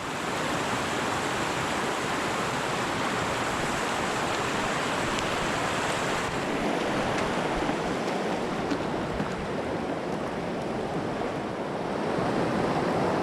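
Steady rushing of a small mountain stream where someone is fishing, a continuous broad wash of flowing water, close and even throughout, with no talking.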